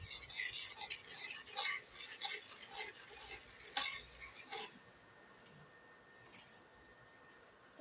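A spoon stirs lentil dal seasoned with turmeric, cumin and salt in a pot, making repeated scraping and clinking strokes for about five seconds before the sound drops to a quiet background hiss.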